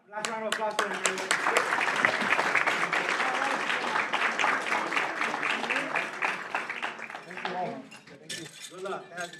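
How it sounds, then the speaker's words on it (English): Attendees at a county board of supervisors meeting give a round of applause, a steady clatter of clapping with some clinking, while a voice talks over it at the start and again at the end. "one last round of applause for everybody"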